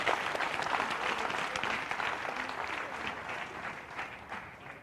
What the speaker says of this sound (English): I'd like you guys to give a big round of applause to all the 4 teams here.